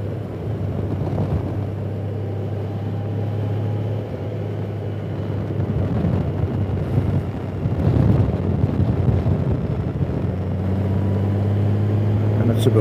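A Honda Gold Wing motorcycle riding on wet roads, with a steady engine drone and heavy wind rush throughout, the pitch shifting slightly as it leans and changes speed, a voice talking over it.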